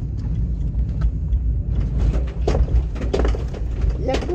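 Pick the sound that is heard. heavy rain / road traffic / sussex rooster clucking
road traffic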